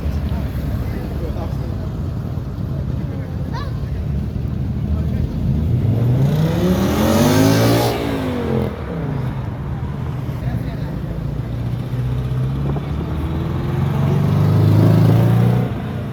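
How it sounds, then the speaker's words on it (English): A Nissan GTR engine revs loudly at a car event in Setúbal, its pitch sweeping up and down in a pass near the middle before building again toward the end, over constant engine drone and crowd voices. "GTR with big parts."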